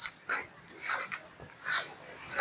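A dog on a neighborhood walk in Barangay Bagtas, Tanza, Cavite gives a few faint, short yips and whimpers, spaced out and quiet against the background.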